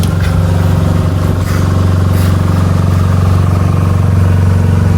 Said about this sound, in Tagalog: May nadaang mga bangkang motor po. Palaot na po ng dagat.